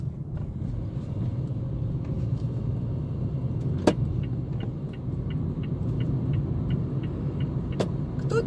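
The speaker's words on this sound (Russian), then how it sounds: "Кто-то приезжает, конечно же, и на своих машинах." Morning traffic of cars arriving at an industrial zone, a continuous low engine and road rumble with a sharp knock near the middle and a faint series of ticks, no talk.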